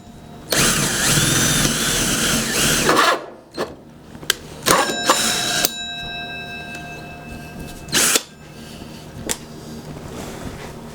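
A power drill running in reverse whirs loudly for a few seconds, then stops; short bursts of the motor follow, with clicks and small knocks in between, while building a wooden wine rack.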